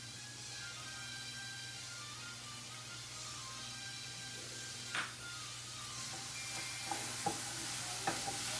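Green and red sweet peppers sauté quietly in a pan, a faint steady sizzle over a low hum, with a few soft spatula taps and scrapes toward the end and no speech.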